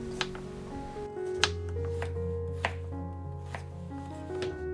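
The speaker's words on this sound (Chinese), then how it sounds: "先处理一下配菜，莴笋切成条" A knife chops celtuce into strips on a cutting board, giving several distinct, evenly spaced knocks over soft background music, close and crisp.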